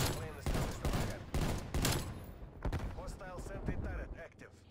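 A hand cannon fires in the Black Ops Cold War video game, a rapid series of loud, sharp shots in quick succession with some overlapping game noise, and a voice comes in briefly toward the end.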